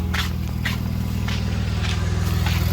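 A 2002 Audi B5 S4 idling with a steady low engine rumble and a faint exhaust pulse, close by. Occasional scrapes and footstep-like knocks can be heard over the engine, with no talking.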